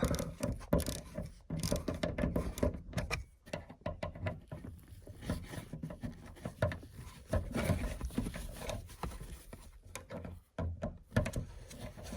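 Ratcheting and rattling from a hand tool sound up close as a 2008-2014 Cadillac CTS shark fin antenna mount is loosened, in irregular clicking bursts with short pauses between them.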